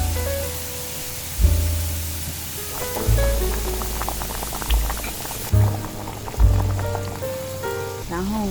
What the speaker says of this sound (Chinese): 把调好的酱汁倒进锅里。